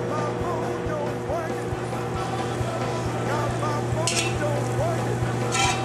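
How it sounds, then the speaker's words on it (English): Butter melting in a very hot pot for gumbo sizzles steadily with soft stirring clatter, a continuous close frying hiss under a low background hum, with faint bits of voice. "So I'm getting the butter nice and melted"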